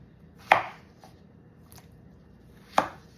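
A knife chops through peeled fuzzy melon on a cutting board for a Cambodian beef stew, giving two crisp, close thuds about two seconds apart with a faint tap between them, in a quiet kitchen.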